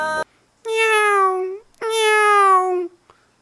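A cat meows twice in long, drawn-out cries, loud and close, with a brief sharp sound before the first.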